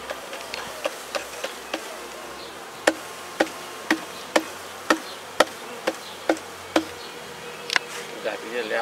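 Honey bees around a nucleus hive give a soft steady hum beneath a series of sharp, evenly spaced taps, with faint talk in the background.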